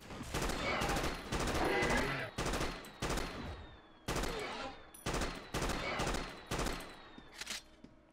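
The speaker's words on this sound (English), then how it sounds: "Alright, the shotgun is cool." Repeated booming shotgun blasts from the video game TerraWars: NY Invasion, fired in quick bursts with brief gaps between them, loud and close, each blast trailing off in a short ringing tail.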